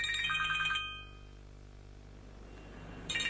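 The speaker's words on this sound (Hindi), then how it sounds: "Sir can I attend this phone call? वो अम्मी की कॉल आ रही है।" A phone ringtone chimes in a short bright burst, goes quiet for a couple of seconds, then starts ringing again over a low steady hum.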